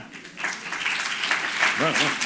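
Applause from a conference audience at a university science-culture session, a scattered then steady clapping that builds across the room while a voice carries over it.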